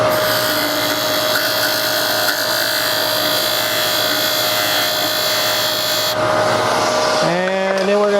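A wood lathe spins steadily with a continuous whining hum and a tonal drone while a spindle gouge cuts a bead, loud and close, the pitch shifting and dropping near the end as the machine slows.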